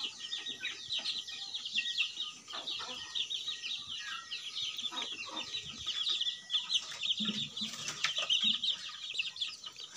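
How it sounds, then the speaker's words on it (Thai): A flock of black-meat chickens clucking steadily on a farm, many overlapping soft calls at moderate distance with occasional wing rustles and no talk. "นี่ก็จะเป็นไก่ซินดำ"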